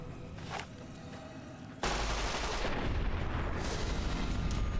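Gunfire aimed at a scorpion in Fallout: New Vegas breaks out suddenly as a loud, dense burst and keeps going as a continuous roar of rapid shots until the end, following a quieter stretch.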